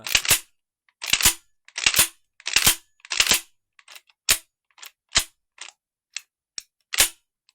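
Sharp mechanical clacks of an Aselkon S4 GT airsoft rifle cycling, in quick paired bursts then single snaps, crisp and close with short silences between.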